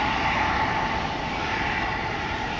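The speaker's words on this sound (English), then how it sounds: "The CRJ is going to cheat, I think. It was stepping on the gas," CRJ jet engines roar as they spool up for takeoff at Amsterdam Schiphol Airport, a loud, broad, steady rush with a sustained whine and no pauses.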